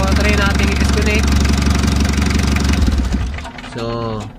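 An engine idles steadily with a rumbling knock, then sputters and dies after a wire is disconnected, falling nearly quiet before a short engine-like tail.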